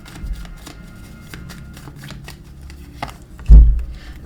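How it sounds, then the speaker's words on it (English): Tarot cards riffled and shuffled from a deck in a series of soft papery flutters, ending in a sharper tap near the end, with no talking. "Let me pull some real quick clarifying cards for these."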